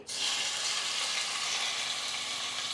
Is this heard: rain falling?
no